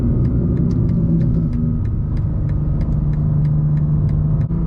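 BMW G87 M2 engine rumbling steadily with low exhaust burble through smooth downshifts, heard from inside the car, continuous and fairly loud with faint ticking overhead, no talk.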